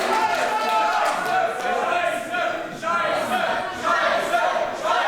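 At a British wrestling show, a crowd chants a mocking version of a wrestler's surname, a loud, sustained, rhythmic roar of many voices heard in rolling waves.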